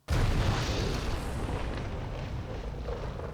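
A meteorite strikes in an animated samurai series and sets off a sudden loud explosion: one sharp onset, then a broad, roaring rumble that slowly fades over a few seconds, with no voices over it.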